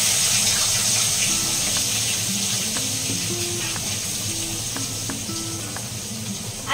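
Onions being rinsed under a running kitchen tap before frying for mutton curry, a steady close rush of water with occasional light knocks and splashes, no talking.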